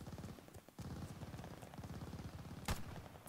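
Top Break gun firing incendiary rounds in Call of Duty Vanguard: a dense burst of rapid gunfire that continues almost without pause, with one sharp louder shot near the end.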